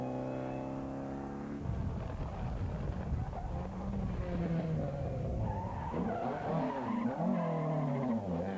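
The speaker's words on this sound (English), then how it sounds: "Nice bit of handbrake turn there from 220, Martin Freestone." A historic rally car at the 1997 Manx International Historic Rally skids through a handbrake turn, tyres squealing over a revving engine in a sustained, wavering slide with the motor rising and falling.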